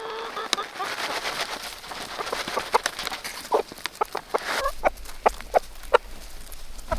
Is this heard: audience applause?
no